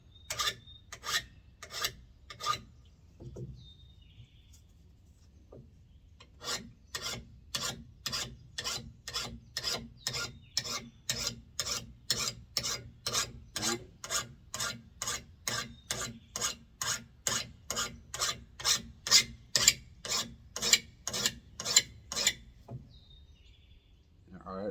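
A file rasps along the edge of a single-bevel blade in steady rhythmic strokes, a few at first and then a long even run of about thirty close, crisp scrapes.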